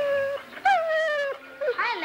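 A mother dog with puppies gives several high, wavering whimpers and whines in short drawn-out bursts, close by and fairly quiet.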